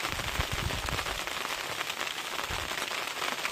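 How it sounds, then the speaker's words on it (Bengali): Rain falls steadily on an overcast day beside mangrove forest waters, a dense close patter with sharper drops striking a surface, continuous and fairly loud throughout. "আর বৃষ্টি কিন্তু হচ্ছে।"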